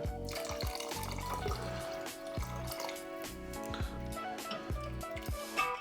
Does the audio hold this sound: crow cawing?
no